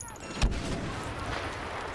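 A single muffled grenade explosion booms out amid continuous game noise and rumble in Star Wars Battlefront multiplayer on PS4, followed by a fading roar.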